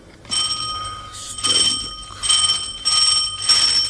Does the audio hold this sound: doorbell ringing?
yes